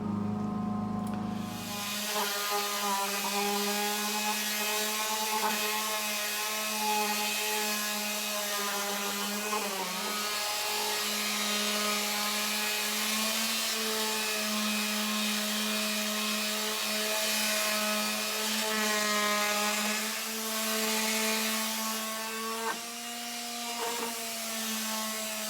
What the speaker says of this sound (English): I'm just going to take some 80 grit sandpaper now on my little palm sander